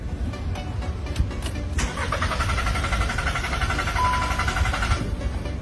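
A second-hand car's engine cranks repeatedly without catching, a close, uneven churning from the starter that falters and rises again over several seconds, no voices.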